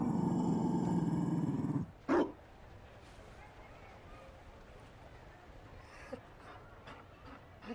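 A Mabari war dog in Dragon Age: Inquisition gives a brief sharp bark after a voice fades, followed by quiet ambient noise and a few faint clicks.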